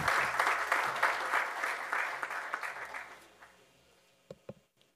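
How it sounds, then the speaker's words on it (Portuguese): A crowd applauds steadily at a formal ceremonial session, the clapping fading out over a few seconds, followed by a few scattered final claps. "Uma salva de palmas para vocês mesmo, todos nós."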